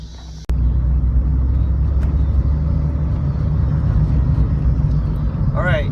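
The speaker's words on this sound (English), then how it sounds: "We're just gonna take the Civic and go through and see if we can get 11 to 12 psi" A Honda Civic with a TD05 turbo drives along, a loud, close, steady engine and road rumble filling the cabin after a sudden start, with a brief voice near the end.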